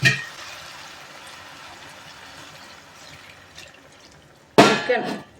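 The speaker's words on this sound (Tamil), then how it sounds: "இந்த ஸ்டேஜில் கொஞ்சம் தண்ணி சேர்த்து வேக விட்டுக்கலாம்." Water added to chicken curry simmering in a pan on the stove gives a sudden splashy pour and sizzle near the end, following a quiet stretch of low background hiss.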